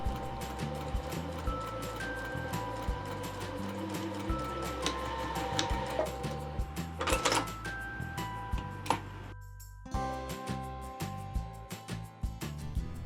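Sewing machine stitching a marked line through striped quilt binding fabric, a continuous close mechanical whir with rhythmic ticking and brief stops and restarts, no talking.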